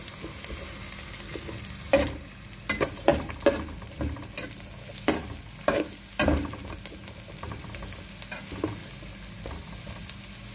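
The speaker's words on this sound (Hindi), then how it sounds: "चॉप्ड प्याज डाल देंगे, इसे फ्राई कर देंगे जब तक ये गोल्डन ब्राउन ना हो जाए" Chopped onions fry in about four tablespoons of oil for chicken BBQ rice, a steady sizzle broken by repeated scraping stirs, loud and close, with no voices.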